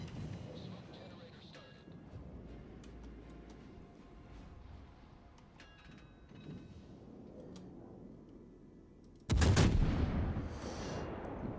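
Naval gunfire in the World of Warships video game: a steady wash of in-game battle ambience gives way near the end to a sudden, loud broadband blast that stays heavy for a couple of seconds.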